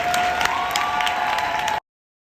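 Audience applause at a leadership conference, a dense and even sheet of clapping from a large room with a faint steady tone running beneath it. The clapping stops abruptly after nearly two seconds.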